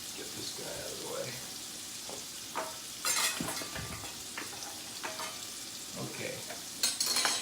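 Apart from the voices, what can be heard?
garlic sauteing in a hot pan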